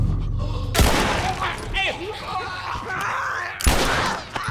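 Loud gunfire bursts from The Last of Us video game, two sharp blasts framing a stretch of groaning, moaning game sounds.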